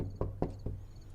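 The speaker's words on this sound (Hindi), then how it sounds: "कोई दरवाजा खटखटा रहा है।" Knocking on a door: three distinct knocks spaced about a fifth of a second apart, moderately loud and close, followed by a quiet room tone.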